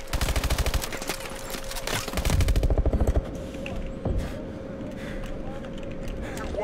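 Rapid automatic gunfire rattles in a Call of Duty: Advanced Warfare match, bursts of fast shots in the first three seconds followed by scattered single shots and a player talking.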